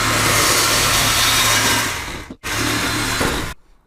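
A power cutting tool grinds loudly and continuously through the old exhaust on a VW Lupo, a harsh, close metallic whine that stops briefly, resumes, then cuts off.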